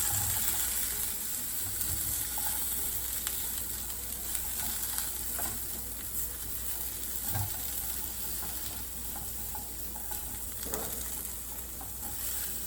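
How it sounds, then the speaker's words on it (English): Potatoes for a spinach-potato coconut curry sizzle softly in a pan, with occasional scrapes and bumps as they are turned over. The steady frying runs throughout and no one speaks. "I'm just going to turn it around a little bit and keep cooking until they get a little soft."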